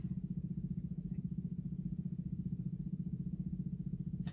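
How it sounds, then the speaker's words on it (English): A Vespa scooter's small engine runs steadily in city traffic, a close, continuous low putter with a fast regular pulse throughout, heard from a car on a city drive, no voices over it. "You can see a Vespa."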